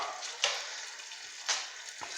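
Chicken liver fries in a pan with a steady sizzle filling the clip, a hissing crackle with a few sharper pops and spits standing out, close and moderately loud.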